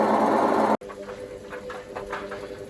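An Indesit WIDXL12 washing machine, recovered from a kerbside, runs its spin phase: a loud whirring drum cuts off abruptly, then gives way to a quieter hum with faint rhythmic knocks and whines.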